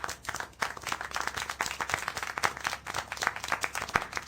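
Steady crowd applause in the video game Syberia: The World Before, with dense, continuous clapping throughout, fairly loud and even, with no voices.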